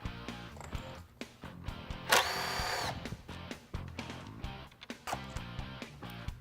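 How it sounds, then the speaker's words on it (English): A T25 driver is used to take screws out of a high-speed saw, producing brief close-up buzzing whirs between small clicks and clatters, with one longer whine in the middle. "The first thing we'll do is that we'll remove 4 screws with our T25 driver."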